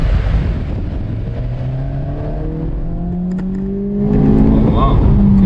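A manual 2023 Acura Integra with a 1.5-litre engine being driven, its engine droning loud and close as it revs up through the gears and winds up again after a shift.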